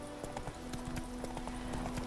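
In the video game The Witcher 3: Wild Hunt, a horse walks along a path with a quick, even clip-clop of hooves, close and steady throughout.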